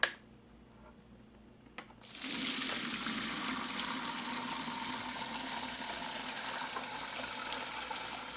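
Grape pyment mead being poured during racking, a steady close wash of liquid that begins abruptly after a short quiet stretch and continues evenly throughout.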